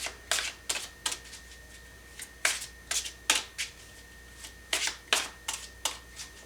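Tarot cards are shuffled and drawn in a quick series of crisp riffles and snaps, close up and fairly quiet, with no talking.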